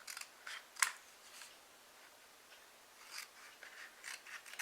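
Scissors trim cardstock with several crisp snips and light paper rustles, close by and otherwise quiet.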